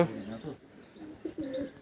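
Madras pigeons in a loft give a few soft, low coos, the last ones clearer, with faint voices and background noise around them.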